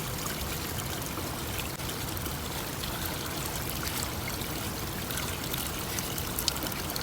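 Cold mountain spring water flows and trickles steadily in Bashu Valley near Skardu, a constant close rushing wash with no speech over it.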